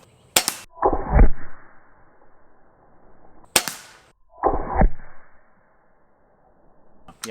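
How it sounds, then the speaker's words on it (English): Two sharp shots from an HP Max airgun at a zombie skull target, each crack followed by a duller impact thud, close and loud with quiet gaps between. "We're gonna shoot from the side and see what kind of entrance and potentially exit wound we can get with this gun"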